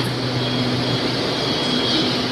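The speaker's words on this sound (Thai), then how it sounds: "เผื่อเพื่อนๆจะได้เห็นขบวนรถไฟทางไกลด้วยนะฮะที่วิ่งผ่านไปผ่านมา" A long-distance train rolls past at Bangkok's Krung Thep Aphiwat Central Terminal, giving a loud, continuous close rumble and wheel roar with a high metallic whine, and no speech.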